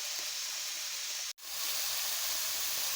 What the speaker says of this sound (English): This is what the broccoli and onions are looking like while they're cooking.